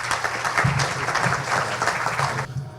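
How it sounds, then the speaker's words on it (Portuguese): Audience applause at a digital business forum in Brazil, a dense, even round of clapping that carries on steadily and then cuts off near the end. "Por favor, uma salva de palmas para o Vinícius."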